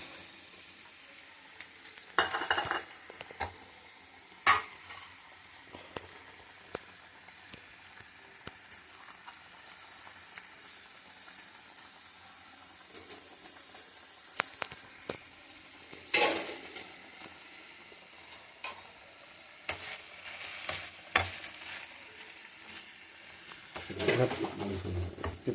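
Broad beans frying in a pan with garlic chilli powder, a steady sizzle broken by intermittent stirring scrapes and clatters, with occasional faint background sounds.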